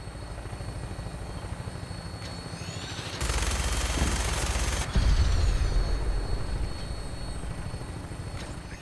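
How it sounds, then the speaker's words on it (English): A minigun fires from an aircraft in the video game Fallout 4, a dense continuous burst of rapid fire lasting a couple of seconds over a steady helicopter rotor drone, with the rotor continuing alone before and after. "That minigun in front of you is loaded and ready to fire."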